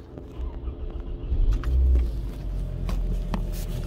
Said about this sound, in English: I'm gonna start the car now.